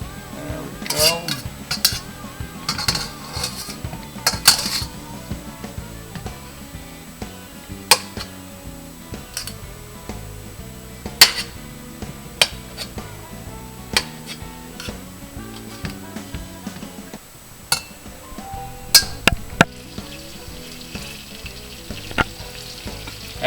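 Butter melts and is swirled in a hot pan for pork fried rice, giving a steady sizzle over the whole stretch with frequent sharp metallic clinks and scrapes of utensils against the pan.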